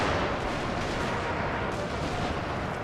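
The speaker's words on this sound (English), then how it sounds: "There's artillery over here for the Union forces." Cannon and artillery fire booms in a Total War: American Civil War game battle at Conewago Creek, 1863, forming a dense, continuous roar of battle noise that stays loud throughout.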